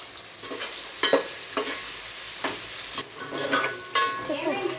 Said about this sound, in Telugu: సో ఇక్కడ వెజిటేబుల్స్ బాగా ఫ్రై అయ్యాయి.